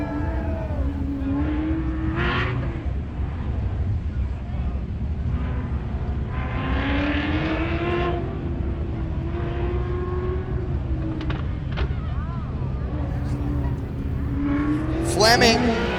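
A 2016 Corvette Z06 race car accelerates up a hill climb course, engine note rising and falling through gear changes at a distance under a commentator's ongoing voice.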